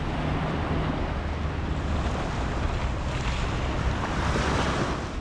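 Waves washing onto an early-morning fishing beach, a loud, continuous roar of surf mixed with wind buffeting the microphone, with no voices.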